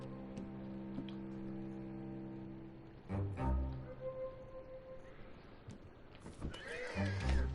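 A horse in Red Dead Redemption 2 lets out a loud, shaky whinny, with a snort and hoof clops in the game audio and someone talking over it.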